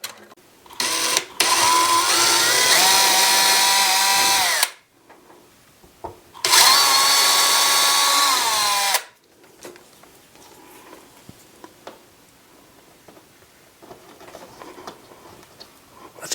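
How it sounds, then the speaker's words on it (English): A power drill whirs loudly in two long bursts, its pitch wavering as it bites into the ceiling to mount a smoke detector, followed by quiet shuffling and small knocks. "we'll get up there and we'll drill it out"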